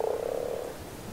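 A single close frog croak from ARK Survival Evolved, a buzzy rattling call lasting under a second and then fading.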